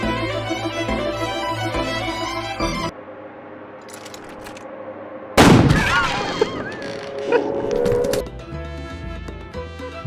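A shotgun fires once in the video game Buckshot Roulette: one loud, sharp blast that ends a quieter stretch after music, followed by a lingering ringing tail and further game tones.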